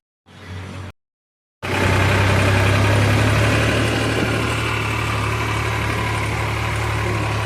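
A tractor engine runs with a loud, steady, low idling rumble that starts after a short burst and a moment of silence.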